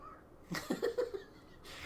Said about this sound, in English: Can you guys hear all her little chirps and meows and demands?